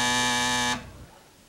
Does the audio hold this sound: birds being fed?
no